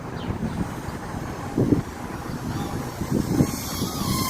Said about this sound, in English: the wind is trying to blow this little guy away